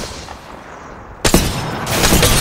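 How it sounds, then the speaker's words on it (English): Video game gunfire in a sci-fi shooter, a sudden loud burst of rapid shots after a quieter stretch, then continuing as a dense, close fusillade. "I am taking fire, friends"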